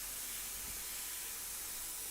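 An airbrush sprays paint for a portrait of a woman, a steady faint hiss that runs unbroken with no talk.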